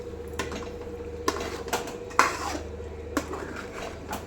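A spoon stirs fish gravy curry with fresh coriander in a metal pot, giving scattered scraping clanks and taps against the pot over a low steady background hum, close and without talk.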